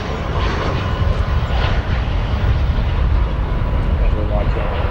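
American Airlines Airbus A319 landing at O'Hare International Airport, producing a continuous loud jet engine roar with dense low rumble and hiss, steady throughout, with a voice faintly audible underneath.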